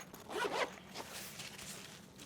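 A zipper pulled open on an underseat carry-on luggage compartment, one quick close rasp followed by a softer trailing drag, quiet and alone.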